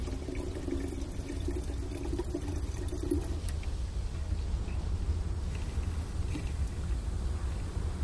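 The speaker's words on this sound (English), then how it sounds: "Now I'll fill up the rest with room temperature water." Room temperature water is poured steadily into a camp shower container, a continuous close splashing rush that fills the whole stretch without pauses.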